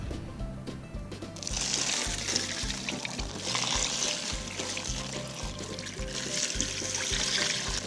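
Water rinses over burnished petrified wood stones, running steadily in loud surging waves for several seconds with no voices.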